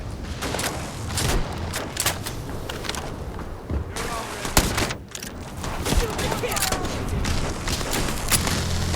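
Rapid gunfire and explosive booms from a firefight in the video game Starfield, dense and continuous with overlapping shots and thuds, loud and close throughout, with a voice shouting over it.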